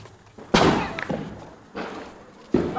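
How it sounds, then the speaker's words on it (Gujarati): Diwali firecrackers burst in a residential street, three sharp loud bangs at intervals, each trailing off into echo over background noise. "શેરીએ શેરીએ બધે ફટાકડા ફૂટ્યા"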